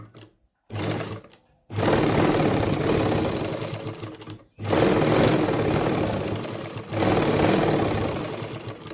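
Sewing machine stitching buckram onto a salwar hem, running in three fast whirring bursts separated by brief stops, loud and close with no talk over it.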